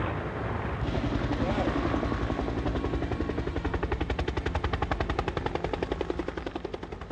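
A firefighting helicopter fitted with a water bucket, its rotor beating in a fast, even chop that grows louder and more pronounced as it nears, alone and close.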